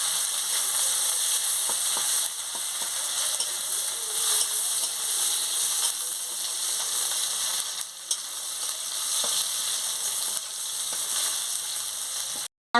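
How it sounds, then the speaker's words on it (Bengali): Chopped onion, green chilli and bay leaf fry with spices in hot oil for a fish curry, giving a loud, continuous hissing sizzle broken by brief stirring scrapes. "এবার আমি পেঁয়াজ কুচি দিয়ে দিচ্ছি, কাঁচা লঙ্কা দিয়ে দিচ্ছি, তেজপাতা দিয়ে দিচ্ছি। দিয়ে মশলাটাকে ভালো করে আমি ভেজে নিচ্ছি।"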